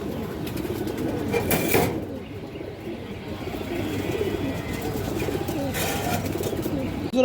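Pigeons cooing close by, soft low throaty coos repeating in a steady rhythm, with a few brief louder bursts and faint background noise.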